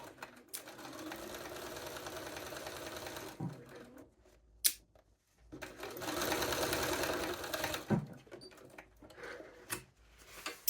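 Sewing machine stitching a 5/8-inch seam on trousers, two long bursts of rapid mechanical whirring separated by brief pauses and small clicks, close and fairly quiet.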